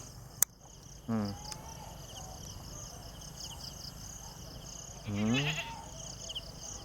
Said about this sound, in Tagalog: Nandun yung iba kong kambing.